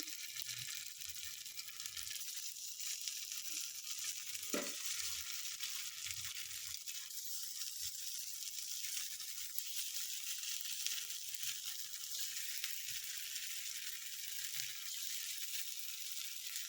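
Small balls of upma dropped into hot oil in an appe pan, giving a steady, faint sizzle throughout with a brief louder clink of the pan near the start.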